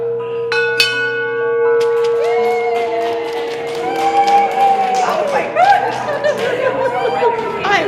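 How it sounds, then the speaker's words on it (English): A handheld bell rung by a patient finishing radiation treatment in a hospital clangs several times with long ringing tones, while a crowd chatters and cheers around it. "it is a tradition to have patients ring a bell when they've completed treatment"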